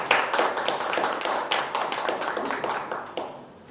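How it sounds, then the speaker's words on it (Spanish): An audience at a talk on religious architecture in Ecatepec applauds, a close, steady patter of many hands clapping that fades near the end. "Un fuerte aplauso."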